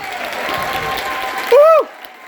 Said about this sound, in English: Please give a huge round of applause to Heather Gray!